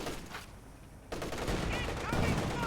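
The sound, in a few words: strafing run gunfire in video game Company of Heroes 2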